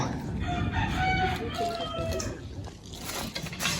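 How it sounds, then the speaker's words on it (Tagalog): Chickens cluck and squawk nearby in a noisy outdoor setting, with scattered human voices and movement sounds mixed in. "Huliin natin yung manok. Guys, ayun yung manok."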